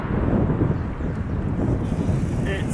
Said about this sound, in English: It's fairly windy today